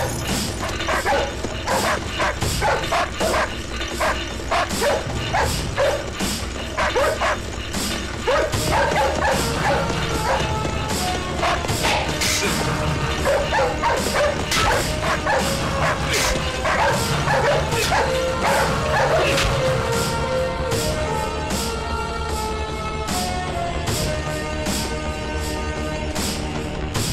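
Several dogs bark and yip excitedly in a dense, continuous chorus in a Hindi action film scene, loud and sustained throughout with overlapping shouts.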